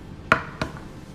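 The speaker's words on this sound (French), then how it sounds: "Nous allons commencer par casser les œufs et les mettre dans le saladier." Two sharp cracks of eggs being broken into a mixing bowl for pancake batter, close and crisp, about a third of a second apart, in a quiet kitchen.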